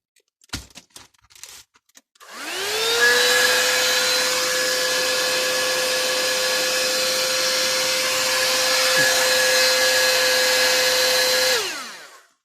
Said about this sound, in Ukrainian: Не знаю, що це, це фен чи.